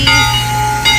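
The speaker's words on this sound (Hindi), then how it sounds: "बज रही है घंटी" A 19th-century steam train's bell at Roaring Camp Railroad in Felton, California rings twice over steady mechanical rumble, the strikes bright and close, about three quarters of a second apart.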